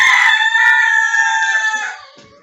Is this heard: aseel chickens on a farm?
yes